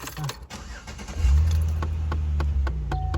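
Faulty left driver-side HVAC blend door actuator running in a Chevy Impala, a low steady hum that starts after a moment and keeps droning on, with a faint voice near the start.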